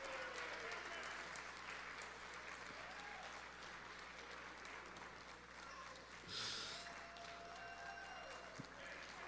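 An audience at a student film festival awards screening applauds steadily for several seconds. The clapping is dense but fairly faint and distant in a large hall, with some murmuring voices underneath.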